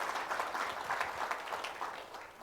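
An audience applauds at a talk on nonprofit efficiencies, a brief patter of many hands clapping at moderate distance without speech.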